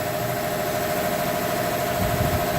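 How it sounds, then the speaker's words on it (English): A Yanmar 6LP marine diesel engine runs in good condition at a steady idle, with a continuous even hum and rumble and no voices. "This is to deem an excellent running 6LP engine unusable."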